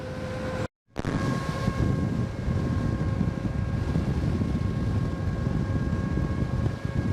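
A Veteran Sherman electric unicycle runs loudly with a steady high-pitched whine over constant wind rush. A brief dropout comes near the start, then the whine continues unbroken.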